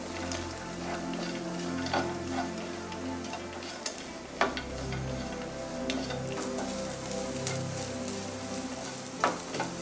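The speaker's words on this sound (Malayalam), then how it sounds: "പിന്നെ നേരത്തെ വറുത്ത് വെച്ചിരുന്ന കപ്പലണ്ടിയും എള്ളും ഇതെല്ലാം കൂടെ ഒന്നുകൂടെ ഒന്ന് റോസ്റ്റ് ചെയ്യുന്നു." Peanuts, sesame seeds and garlic roast in a pan for a chilli curry side dish, giving a steady low sizzle with scattered light ticks and scrapes of stirring, close and without talk.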